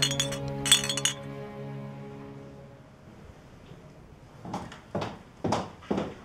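Glasses clink together in a celebratory toast, several bright ringing chimes close by at first, then quieter sharp knocks and clatters follow after a pause.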